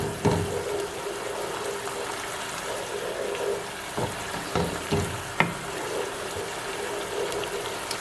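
Quiet, steady sizzling of tomato frying in oil for okra soup, with a few sharp clinks and pops scattered throughout, and no talking.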